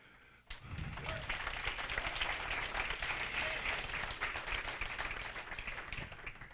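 Sustained applause from a banquet audience at a football hall of fame induction, dense steady clapping from a large crowd filling the room after a brief quiet start, continuing without letup.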